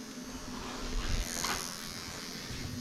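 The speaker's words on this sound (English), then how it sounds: "I'm just going to up that RPM so we can look at the tacho on the dash again" A Lexus 1UZ-FE V8 paired with an automatic gearbox is revved to higher RPM, giving a steady, close buzzing engine drone that swells slightly and then holds, with no talking.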